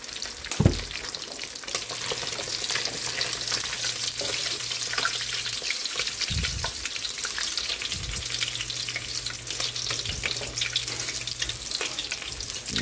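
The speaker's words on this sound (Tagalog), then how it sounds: "Luto na yung ating pritong isda." Fish fries in a pan, giving off a loud, steady sizzle and crackle that lasts throughout, with occasional clatter close by and no talking.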